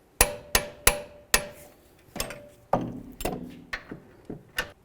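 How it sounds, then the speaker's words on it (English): A torque wrench tightens the lateral link bolts on a Dodge Journey to 74 foot-pounds, making a string of sharp, loud metallic clicks spaced about half a second apart, each followed by a brief ringing decay. "now let's go ahead and torque each of these bolts to 74 foot-pounds"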